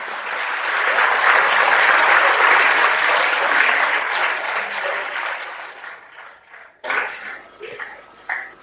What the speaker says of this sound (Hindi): माननीय मुख्यमंत्री महोदय के साथ आप सभी से आग्रह, जोरदार तालियों से स्वागत और अभिनंदन